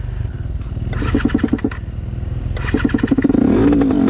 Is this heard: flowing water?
no